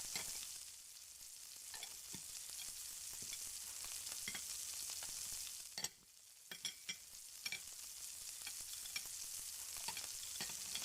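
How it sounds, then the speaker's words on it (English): Masala spices frying in oil over a medium flame, a steady bright sizzle with a spoon scraping and clinking against the pan as it is stirred, close and fairly quiet. "Keep stirring on medium flame for 10 to 15 minutes."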